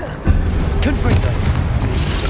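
A Confringo blasting spell explodes in Hogwarts Legacy with a sudden boom near the start, followed by a sustained rumbling, crackling roar and a few brief higher tonal whooshes over loud game background.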